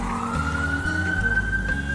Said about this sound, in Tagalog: Oh, yan po ang ambulansya rito.